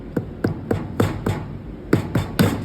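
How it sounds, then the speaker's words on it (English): A small dead blow hammer knocks around the edges of an oil tank during an oil change and tank cleaning, giving about nine close, dull thuds at an uneven pace. The blows are spaced roughly a quarter to half a second apart, with no voice over them. "Use a smaller dead blow hammer, usually just bumping the edges here."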